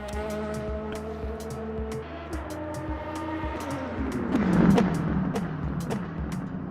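Race car engine in the Le Mans Ultimate racing game, a steady droning note that dips and then swells into a louder, rougher roar, with sharp clicks scattered throughout and no talking.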